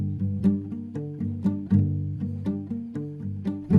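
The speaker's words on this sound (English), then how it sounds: "I pitched the guitars a whole octave up, then I pitched the formants down" Lo-fi indie guitars shifted an octave up with formants lowered give a thin, boxy tone, playing a short rhythmic chord pattern at moderate volume with no talking.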